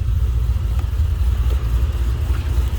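A 2016 Dodge Challenger SRT Hellcat engine throbs with a deep, loud, steady low rumble, heard close with slight swells as the throttle is worked.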